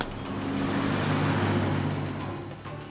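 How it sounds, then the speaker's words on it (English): A truck passing by in the video game Corpse Party, a broad engine and road rumble swelling up and fading away within a few seconds. "Another truck was just about to pass by"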